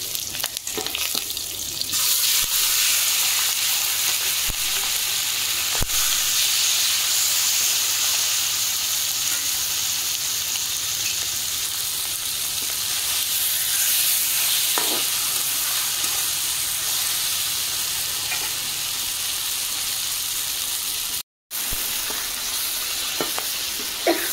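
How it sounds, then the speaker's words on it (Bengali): Hilsa fish frying in oil with nigella seeds and slit green chillies gives a loud, dense, continuous sizzle throughout, with a brief dropout near the end. "দেখুন মাছের পেছন পাটটা হালকা ভাজা হয়ে গেছে"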